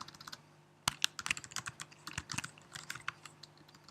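Irregular bursts of keystrokes on a computer keyboard, close and fairly quiet, with uneven clusters of clicks and short pauses and no voices.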